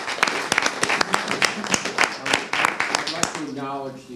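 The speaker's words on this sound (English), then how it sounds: "Let's give them a big round of applause for all they do." An audience at a public census hearing in Albany claps in a sustained round, many sharp hand claps in an irregular rhythm, fairly close, tapering off as a voice begins near the end.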